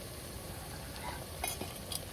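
Beaten eggs stirred in a hot oiled pan for Indian-style egg keema, giving a steady soft sizzle with faint scraping stirs and a couple of brief clinks near the end.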